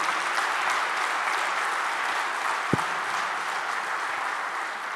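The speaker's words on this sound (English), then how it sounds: "A loud round of applause for him, please." Steady applause from an audience at a poultry industry expo, welcoming the chief guest, a dense even wash of clapping with one sharp thump partway through.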